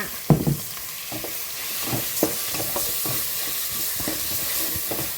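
Pork and egg stir-fried in fragrant curry paste for a northern Thai mushroom curry, with close sizzling and a few scraping, clattering stirs over a steady frying hiss.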